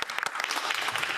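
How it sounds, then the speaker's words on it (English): Applause fills the House of Commons chamber, a short burst of many hands clapping together, loud and dense. "join me in applauding their tremendous accomplishment"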